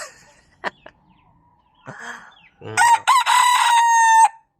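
Darag native chicken rooster crowing close by, a loud drawn-out crow near the end after a few soft clucks and rustles.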